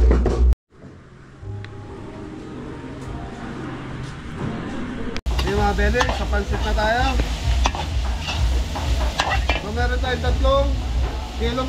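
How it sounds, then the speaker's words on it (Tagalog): Pork meat, including pancreas and liver, sautéing for bachoy at a catering kitchen in Santa Isabel, Kawit, Cavite, with a loud sizzle and stirring clatter that grows busier after a brief cut, while people talk in the background. "Gigisa na natin yung karne ng bachoy."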